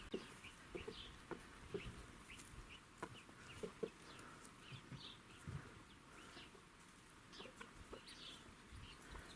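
A hen clucks repeatedly in short, soft bursts while digging up a plant, with scratching and rustling from the ground in between, nearby but fairly quiet, with no talking.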